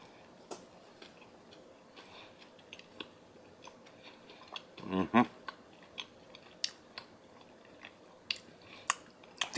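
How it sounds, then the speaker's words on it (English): Someone chews rehydrated freeze-dried no-mayo tuna salad with onion and celery, close and quiet, with soft irregular crunching and clicking bites and one louder crunch midway. "The onions and the celery in that have just a little bit of a crunch still"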